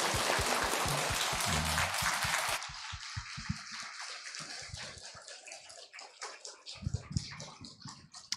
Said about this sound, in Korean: 우리 다시 한번 큰 박수로 우리 격려하도록 하겠습니다